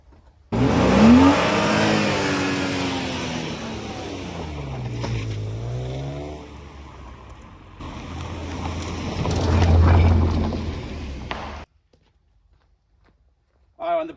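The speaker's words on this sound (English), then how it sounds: "Right, I should put it back in the barn now," A BMW 328i Sport Touring van conversion with a manual gearbox drives back into a barn, its engine rising and falling through gentle revs for about eleven seconds before cutting off into near silence.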